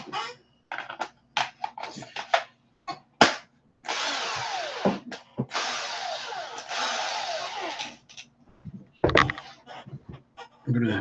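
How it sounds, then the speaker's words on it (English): A power drill whirs in two sustained bursts between short clicks and clatter, with brief speech-like sounds around it; fairly close and loud. "Now I just need my drill."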